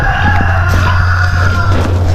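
Farm chickens around a hen with newly hatched chicks, with clucking and calling over a steady low hum, fairly close and loud.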